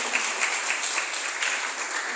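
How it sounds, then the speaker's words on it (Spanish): A congregation claps together during a Spanish-language church service, steady dense applause filling the moment without pause. "Dale un aplauso al Señor porque Él es fiel"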